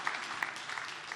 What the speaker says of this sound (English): Please don't clap for that.